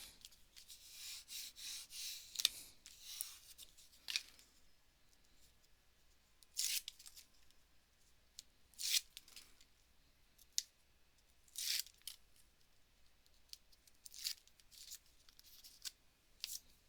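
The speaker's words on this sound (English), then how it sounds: "I took a strip and cut it down just so it doesn't look so not even." Scissors snip a strip of tape in a handful of short, crisp cuts spaced irregularly, faint and close with no talking.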